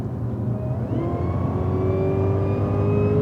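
Cadillac CTS-V on a track driving event pulling steadily under power, engine note rising and whirring continuously and loud throughout, close inside the car with a constant rumble beneath.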